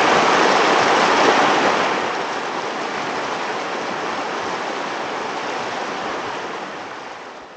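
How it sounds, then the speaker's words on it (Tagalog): Steady loud rushing river water flowing continuously in Pangasinan, Philippines, a dense broadband roar that eases slightly after the first couple of seconds, with no voices. "Napaka-solid ng ilog na to. Isa sa magandang nakita kong ilog dito sa Pangasinan."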